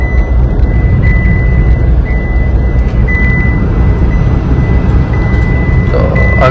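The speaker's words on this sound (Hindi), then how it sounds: "गाड़ी गैस पे चलती हुई।" A Tata Punch BS6 fitted with a CNG kit runs on gas at about 80 km/h, giving a loud, steady road and engine rumble with a thin constant whine above it.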